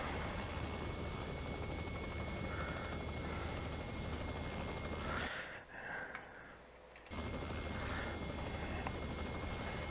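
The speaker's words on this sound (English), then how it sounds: "You can hear those rotors kind of wind up a little bit there." A steady Robinson R66 helicopter rotor drone with engine hum in the X-Plane 11 flight simulator fills the recording, rotors winding up, briefly dipping to near quiet before resuming at full strength.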